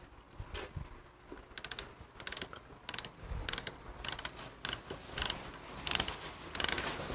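A ratchet works a rocker box bolt loose on a Harley Evo motorcycle engine, giving short bursts of quick clicking strokes that repeat throughout, close-up and moderately loud.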